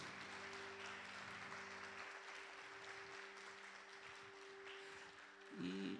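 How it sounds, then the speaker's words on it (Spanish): A church congregation applauds at the close of a Spanish-language worship service, steady clapping that fades and picks up again, with a sustained musical tone underneath. "dale un aplauso al Señor"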